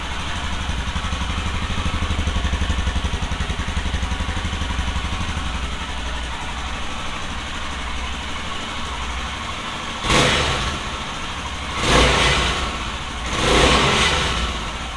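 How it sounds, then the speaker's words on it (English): A motorcycle exhaust fitted with a Red Rooster muffler and heat shield, idling with a deep steady burble up close, then three short throttle blips that rise sharply and fall back. "if you guys listen to the exhaust note"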